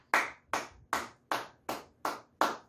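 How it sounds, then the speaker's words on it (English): Children give seven evenly spaced claps in unison at a kids' class, each sharp, loud, close burst fading quickly before the next, with no talking. "Give a big clap."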